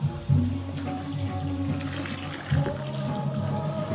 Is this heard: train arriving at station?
no